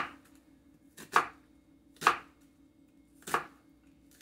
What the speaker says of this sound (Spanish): Ahora voy a picar la cebolla.